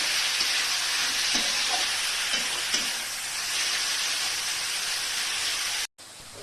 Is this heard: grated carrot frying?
yes